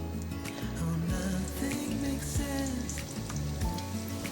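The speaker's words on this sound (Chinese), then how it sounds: "锅内放入适量的油，把素排放进来煎" Vegan patties fry in oil in a pan, giving a steady sizzle with low hum and occasional clinks and stirring noises underneath.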